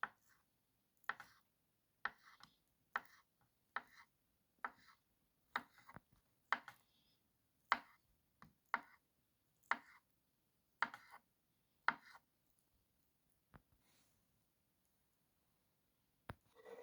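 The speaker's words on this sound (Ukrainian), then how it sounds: "яйця і сирочок наріжу кубиками" Knife dicing boiled eggs and cheese into cubes for a salad with egg and carrot, a steady run of crisp, close taps on a cutting board, roughly one every second, then tapering off near the end.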